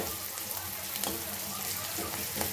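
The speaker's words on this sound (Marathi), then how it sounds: "लसण अद्रकाची पेस्ट एक चमच घालूया आणि याला सुद्धा असं व्यवस्थित परतून घेऊया" Ginger garlic paste sautéing in a pan for capsicum sabji, a dense, even close-up sizzle with faint stirring scrapes, steady throughout the short span.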